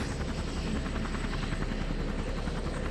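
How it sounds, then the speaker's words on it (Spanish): A Huey helicopter drones steadily in the distance over snowy country, its rotor chop a faint, continuous rhythmic thrum with no other sounds. "¡Un helicóptero"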